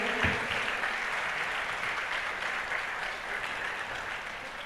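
A continuous wash of audience applause for two doctors at a medical seminar held during the Adishakti Puja at Saptashrungi Gad, steady and fairly quiet, as if from the back of a hall.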